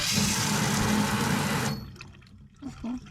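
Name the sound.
hot water running from tap at campground dishwashing station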